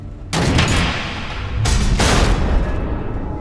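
Missile fire and explosions in Batman: The Enemy Within, two loud, close, broadband blasts in succession with a rumbling tail between and after, no speech over them.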